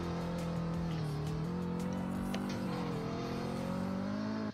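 A Subaru WRX drifts around a circle in the Greenville driving game, engine droning steadily with a sustained tire squeal that rises and falls in pitch, loud and continuous without pause.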